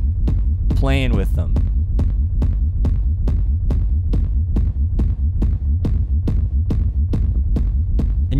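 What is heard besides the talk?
techno rumble kick made from low frequency sine waves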